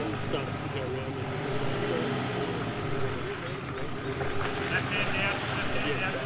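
A 4WD Nissan Navara on mud tyres churns through mud at Yarrabulla Creek in winter, its engine a steady rumbling drone with wind noise and voices talking over it throughout.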